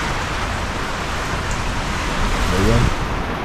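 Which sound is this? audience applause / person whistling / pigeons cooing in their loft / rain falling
rain falling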